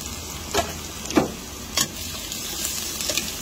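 Hotdogs frying in a pan with garlic and white onion, a steady close sizzle with a few sharp spits and stirring clatters, no talking over it.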